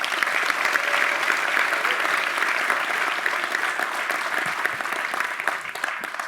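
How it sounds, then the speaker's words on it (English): A live theater audience applauds its hosts at a space-science show, with full, continuous clapping that stays strong and even from start to finish. "So please give another round of applause to our beautiful hosts for having us here tonight."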